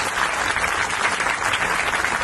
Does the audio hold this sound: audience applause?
yes